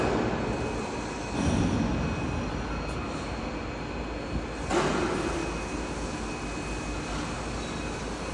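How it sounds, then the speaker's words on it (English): An industrial drive with an Innomotics motor, Flender gearbox and fluid coupling runs with a steady, fairly quiet machinery hum and drone throughout, broken by a couple of brief swells in noise. "This is the coupling, fluid coupling."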